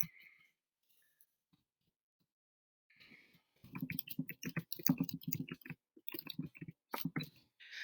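Quiet keyboard clicks and taps come in a quick irregular cluster on a computer, faint and close, with a brief pause before the typing starts.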